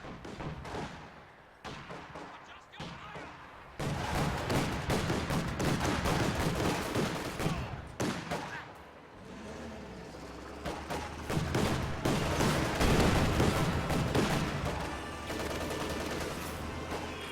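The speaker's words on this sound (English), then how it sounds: "Alert! Enemy infantry! Contact! Small arms fire!" Small arms fire crackles through a strategy video game battle, dense bursts of shots and thuds running almost without pause, loud and close throughout.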